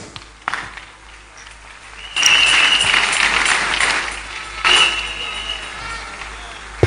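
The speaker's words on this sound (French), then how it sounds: "Applaudissons pour le Seigneur." A church congregation at a live service bursts into sustained applause after a quiet moment, the clapping dense and steady, swelling again briefly near the end.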